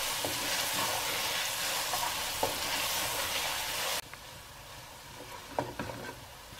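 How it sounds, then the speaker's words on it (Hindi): Garlic ginger paste sizzling and frying in a pan with a steady hiss, occasional stirring scrapes and soft pops, up close with no talking. "इसको मैं इसलिए भून रही हूँ कि थोड़ी लहसुन अदरक के पेस्ट की स्मेल निकल जाए"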